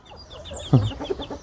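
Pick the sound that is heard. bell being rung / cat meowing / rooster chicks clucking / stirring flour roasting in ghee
rooster chicks clucking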